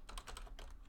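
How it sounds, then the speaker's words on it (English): Rapid, light keystrokes patter quickly on a computer keyboard while working in RStudio, close and fairly quiet, with no voices. "That's what the fast typing is coming from."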